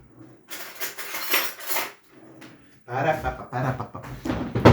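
A spoon clinks and scrapes against dishes in short bursts, close by, with a voice talking in between.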